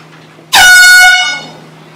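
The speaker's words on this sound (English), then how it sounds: "Sorry for scaring you with the air horn" A single loud air horn blast cuts in abruptly after a quiet moment, holding a bright, brassy tone for about a second before fading away.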